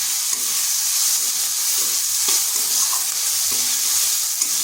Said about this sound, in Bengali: আদা রসুনটাকে একটু ভেজে নিচ্ছি যাতে তার কাঁচা গন্ধটা চলে যায়